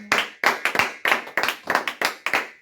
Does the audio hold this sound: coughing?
no